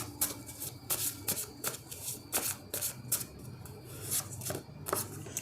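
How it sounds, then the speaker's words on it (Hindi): Tarot cards are shuffled by hand close up, a steady run of crisp riffling and slapping strokes repeating for several seconds with no talking. "एक और कार्ड मैं यहाँ पर लूँगी।"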